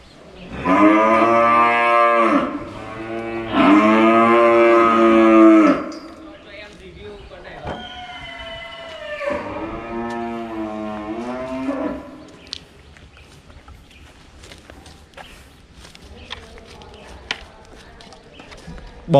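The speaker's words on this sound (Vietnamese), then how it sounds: "Đây các bác có thể thấy hai con bò mà hôm trước tôi vừa review đây" Brahman cattle on a farm give long, loud lowing moos, two strong calls back to back and then a shorter one, with someone talking and faint background noise between them.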